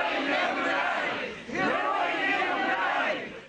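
A mourning crowd chants in unison at the funeral of a man killed in fighting in the capital, held in Sumy, flowers and wreaths all around. Loud massed voices rise in two sustained waves, with a brief dip between them.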